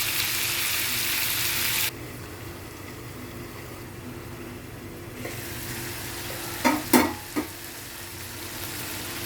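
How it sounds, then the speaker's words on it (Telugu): Chicken fries in a pan: a loud, bright hiss for about two seconds drops to a low, quieter simmering hiss, then a few sharp utensil knocks near the end. "చికెన్ వేసి ఫ్రై చేసుకోవాలి. ఇలా ఫ్రై చేసుకోవాలండి, మంచిగా మగ్గుతుంది."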